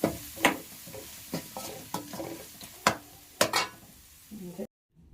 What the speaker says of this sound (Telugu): ఇంగువ వేసి ఇలా ఫ్రై చేసుకొని స్టవ్ ఆఫ్ చేసుకోవాలి